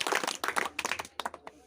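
A group of young schoolchildren clap together, producing bursts of sharp, ragged handclaps in short clusters with brief gaps between them, close but fairly quiet and only loosely in unison.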